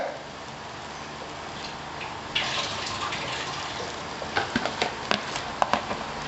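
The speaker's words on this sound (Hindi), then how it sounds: "इसका पानी गिरा लेती हूँ मैं।" Water pours out of a pot of soaked lentils being drained for daal mash, a steady running splash followed by scattered drips and small spatters close by.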